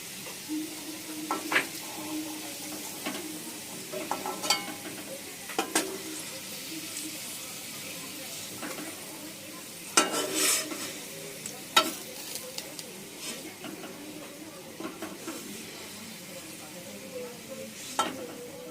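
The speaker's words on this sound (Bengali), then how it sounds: "আর তেলটা গরম হলে আমরা এটা বেরেস্তা বানিয়ে নেব।" Onions frying in hot oil into crisp fried onion for a Mughlai chicken curry, a low steady sizzle broken by repeated stirring scrapes and clinks of a utensil against the pan, with no talking.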